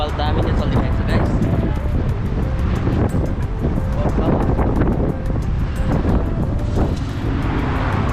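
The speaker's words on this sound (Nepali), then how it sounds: "हावा पनि बबाल दामी नै चलिरहेको छ" Strong wind buffets the microphone outdoors in Nepal, a loud, continuous rumbling roar with gusty swells lasting throughout.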